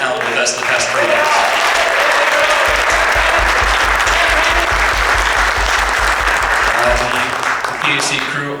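A jazz concert audience bursts into loud, dense applause for the guest soloist, sustained clapping filling the hall with a speaking voice heard over it at the start and end.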